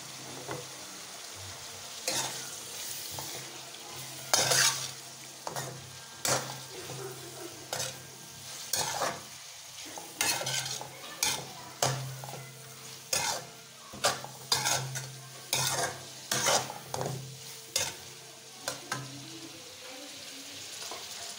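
Chicken stir-frying in a pan for fried rice, a steady sizzle broken by repeated rhythmic scrapes and clanks of a spatula against the pan, fairly close and clear.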